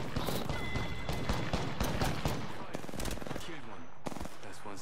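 Rapid bursts of automatic gunfire in the Apex Legends battle royale video game, loud and dense throughout with overlapping shots and clatter, plus some brief in-game voice.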